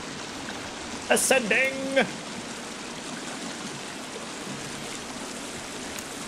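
Water flowing in a cave in the game The Forest, a steady rushing wash that continues throughout, with a brief voiced exclamation and a short game chime early on.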